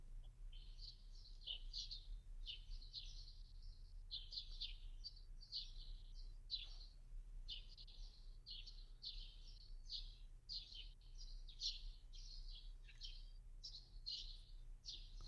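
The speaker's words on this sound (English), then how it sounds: "We'd like to listen to the birds for a couple of minutes" Small birds chirping outdoors in a steady run of short repeated tweets, fairly clear over a quiet low background hum, with no talking.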